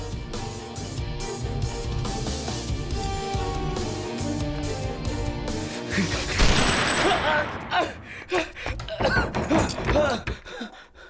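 A gunshot rings out in a tense Bengali short-film scene: music plays first, then a single loud, sharp blast cuts in, followed by a noisy, agitated stretch with voices.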